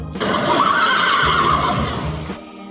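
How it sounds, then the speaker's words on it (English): A horse neighs loudly and close, one long shrill whinny that holds steady and then fades, with a faint snort at the end. "Horse."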